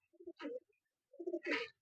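A male Kalshira pigeon coos close by, two short throaty phrases separated by a brief pause, soft and clear against a quiet background.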